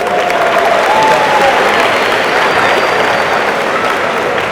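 Sustained applause from a crowd at a university homecoming convocation, a loud, even wash of clapping that holds steady throughout without letting up.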